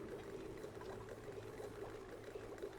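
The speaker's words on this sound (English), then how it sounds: "Quite a bit of steam, but it's not condensing." In Oxygen Not Included, an erupting steam vent gives off a soft, continuous rushing hiss, like pouring liquid, over a low steady drone at low volume.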